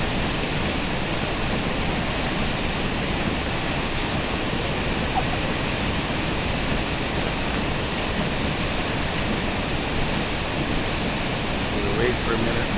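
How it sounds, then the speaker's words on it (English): Zeballos Falls on the Zeballos River roaring during rain on snow, a constant, loud broadband rush of cascading water that does not change for the whole stretch, with no talk over it. "This is the Zeballos Falls"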